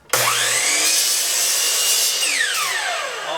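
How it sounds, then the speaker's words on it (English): A saw cuts through the corner of a wooden right-angle square in one continuous, close, loud rasping stroke whose pitch rises and then falls away. "We're just going to take our saw and make sure that we're going to lop off"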